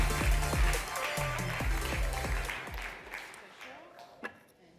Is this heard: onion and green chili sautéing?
no